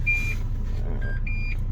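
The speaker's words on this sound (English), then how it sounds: "I open the door, it's beeping." A Renault Espace key card reader with a low CR2025 card battery gives three short electronic warning beeps, fairly close and clear, over a low engine-like hum.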